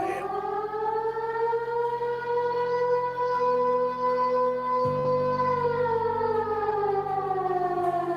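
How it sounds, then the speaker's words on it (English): Civil defense sirens wailing loudly and continuously, a rising and slowly falling tone held for the whole stretch over a low droning background. "the sirens wail."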